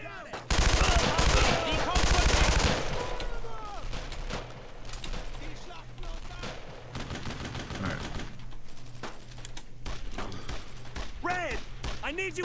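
Rapid automatic gunfire and bursts from a World War II squad firefight in Brothers in Arms: Road to Hill 30, loudest in a dense opening barrage, then continuing as scattered shots and short bursts under a voice speaking.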